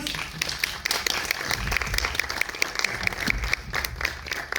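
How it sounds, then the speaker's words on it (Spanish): Audience applause at a press conference for a film, steady broadband clapping from a room of people with some voices mixed in, moderately loud throughout. "Un aplauso para ellos."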